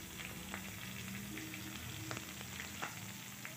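Mustard seeds, cumin and green chilli pieces sizzle steadily in hot oil for a dhokla tempering, a close, continuous hiss sprinkled with small crackles and pops.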